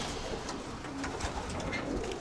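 Pigeons coo inside a loft, soft low throaty calls repeating under a busy rustling background, close by.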